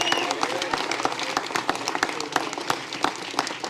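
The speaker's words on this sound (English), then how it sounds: "So I want to give her a round of applause." An audience breaks into a round of applause at a victory celebration for a projected state Senate winner, steady crowd clapping with scattered sharp claps and some cheering mixed in.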